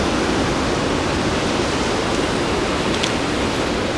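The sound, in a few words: ocean waves breaking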